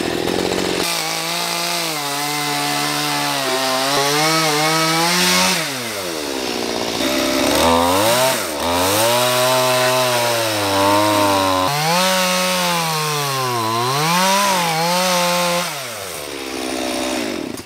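A chainsaw cuts straight down into the trunk of a dead palm tree, its engine loud and close, whining and bogging in repeated swells as the chain bites and eases, with no voices over it.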